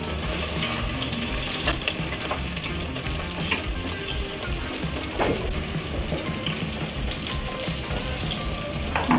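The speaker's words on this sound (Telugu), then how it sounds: "ఫ్రై అవుతున్నాయి కదండి." Onions and green chillies fry in oil for prawn biryani, a dense, crackling sizzle held close and steady throughout, with a few stirring knocks scattered through; no one speaks.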